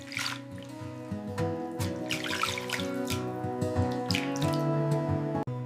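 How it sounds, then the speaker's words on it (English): Warm tap water running and splashing over raw meat being washed in a kitchen for a holiday recipe, a soft steady trickle with irregular drips and handling splashes, close and fairly quiet, no talk. "Washing the meat gently with warm water."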